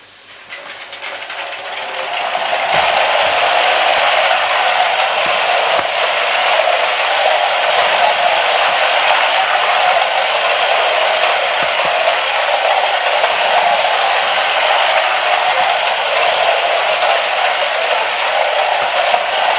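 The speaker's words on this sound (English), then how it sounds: "here's the locomotive running forward." Mamod Mark I toy steam locomotive running forward, a loud close continuous hiss of steam with rapid fine mechanical ratcheting, building up over the first seconds then holding steady.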